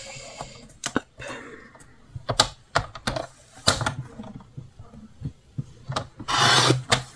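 Paper being trimmed thinner with scissors or a blade while making a scrapbooking card from paper scraps, a series of short close rasping cuts and rustles with one longer scraping burst near the end.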